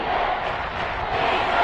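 Stadium crowd cheering in the American football game Madden, a steady wash of roaring crowd noise with no breaks, loud and sustained throughout.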